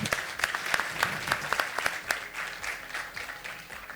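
Audience at a live podcast on leadership and branding breaks into applause, a dense sustained clapping from a crowd that carries through the whole four seconds without any voices over it.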